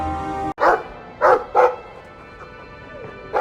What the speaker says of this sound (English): Well, woof to you too.